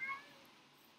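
A cat from the Mo' Creatures mod for Minecraft gives a single short, faint meow in a video game, tapering off quickly over a quiet background.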